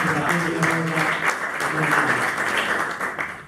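Audience applause at an Italian town event celebrating Conegliano-Valdobbiadene as European city of wine and sport, steady clapping mixed with a voice talking over it throughout.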